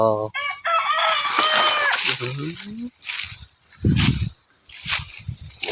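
A hen clucks and fowl calls ring out close by, mixed with bursts of people talking and some household noise.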